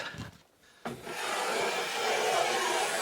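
Hand tool carving strokes shaving a bevel along a length of wood moulding, a brief scrape, a short pause, then a longer sustained rasping cut.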